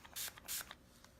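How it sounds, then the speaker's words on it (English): Spray wax misted from a can onto painted black furniture in two short, loud hissing bursts, the second slightly longer, with faint handling noise between them and no talk. "So when I spray this wax on"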